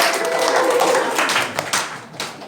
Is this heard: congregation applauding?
yes